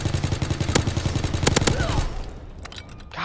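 Rapid automatic gunfire in the video game Call of Duty, a loud close burst of shots that stops about two seconds in, followed by a few scattered quieter sounds.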